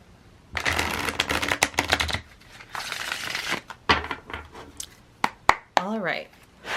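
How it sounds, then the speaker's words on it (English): Tarot cards shuffled by hand in a few quick riffling bursts of crisp, papery flutter, close and fairly loud, with short pauses between bursts. "So let's do a little shuffle"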